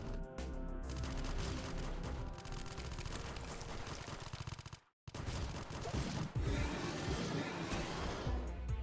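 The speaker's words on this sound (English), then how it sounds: "Sounds like gunfire." Dense, continuous gunfire from the video game AM2R, with rapid bursts and heavy impacts, loud throughout, briefly dropping out before the shooting resumes even more intensely.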